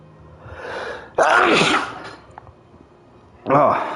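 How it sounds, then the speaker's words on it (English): A single loud sneeze bursts out from a gamer at a microphone, followed by a second, similar burst a couple of seconds later, with faint breathing between. "I'm gonna sneeze, guys."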